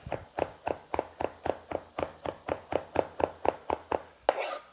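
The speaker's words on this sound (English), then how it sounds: "just give them a rough chop" A knife roughly chops fresh sage on a cutting board, a quick, even run of about fifteen crisp taps close by, ending in a brief scrape.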